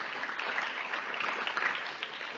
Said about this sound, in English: Have a nice applause for Amory.